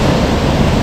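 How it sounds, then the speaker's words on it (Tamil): Water pours through reservoir spillway gates at Iranaimadu tank, a loud, continuous broadband rush close by with no other sound. "அங்கால தண்ணியும் ஓடுது"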